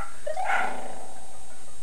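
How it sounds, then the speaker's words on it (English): A dog gives a single short, distant yip or bark over steady background hiss, brief and somewhat muffled. "my dogs are barking because my mom's home"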